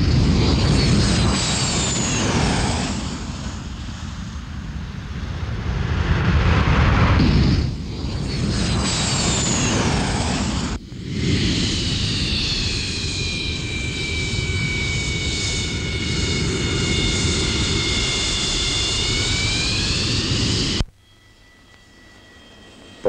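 A Czech MiG-23 jet lands on a highway strip, its engine roar loud and continuous for about twenty seconds, with a descending whine partway through before the noise cuts off sharply near the end.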